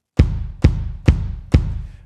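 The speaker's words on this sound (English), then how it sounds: "The boom comes from the bass drum." Four deep, booming bass drum hits at an even, steady pace, each a sharp thump with a short low rumble trailing behind.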